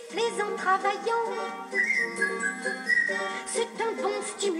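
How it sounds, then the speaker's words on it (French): Cheerful melodic whistling of a jaunty tune, bright and close with quick trills and leaps between notes, carried over a light orchestral accompaniment. "Sifflez un air joyeux, vous vous sentirez mieux"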